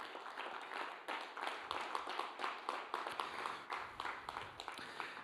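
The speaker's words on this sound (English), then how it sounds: "Give the Lord one more clap." A church congregation claps together during a worship service, a fairly faint, rhythmic run of claps that sounds somewhat distant.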